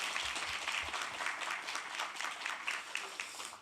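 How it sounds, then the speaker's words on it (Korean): Audience applause at an education forum, a dense, steady clapping from a crowd that holds at even loudness for several seconds without a break. "큰 박수 부탁드리겠습니다."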